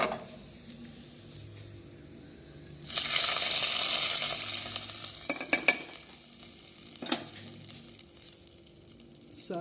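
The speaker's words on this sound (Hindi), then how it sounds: "अब इसमें हींग और लाल मिर्च का तड़का लगा देती हूँ।" Hing and red chili hit hot oil with crackled cumin in a pan, tempering a methi, palak and bathua saag. A sudden loud sizzle bursts up and slowly fades, broken by a few stirring clatters.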